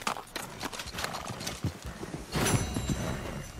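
Hooves clip-clop at a gallop in Red Dead Redemption 2, a rapid drumming rhythm that swells louder partway through, with a brief horse whinny amid the game's ambient sound and no voices.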